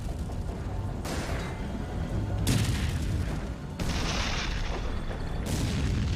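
Loud, dense bursts of distant gunfire and booming blasts from a World War II tank battle, continuous and rumbling, with heavy low-end thuds rolling through the whole stretch.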